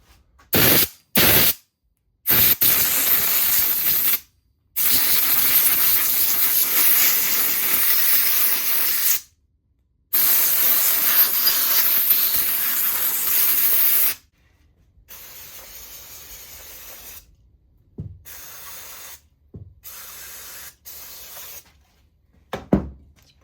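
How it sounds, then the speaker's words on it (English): Compressed air blasts blowing swarf out of a carburettor during LS swap tuning, several loud sustained hissing bursts of a few seconds each, separated by pauses, ending with fainter short puffs. "blow out the swarf."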